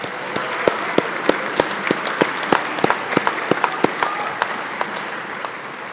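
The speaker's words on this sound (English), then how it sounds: "Give them a round of applause." Graduation ceremony audience applauding, fairly sparse clapping with distinct individual hand claps standing out over a softer background of applause.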